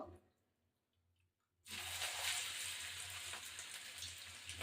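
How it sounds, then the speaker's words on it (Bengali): After a quiet moment, small battered shrimp drop into hot oil and burst into a loud, dense, close-up crackling fry that carries on steadily to the end. "কটা চিংড়ি মাছ দিয়ে মাখা রয়েছে, কটা ভেজে ফেলবো"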